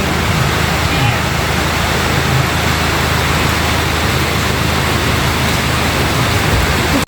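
Heavy rain pours down in a loud, dense, unbroken hiss that stays constant from start to finish.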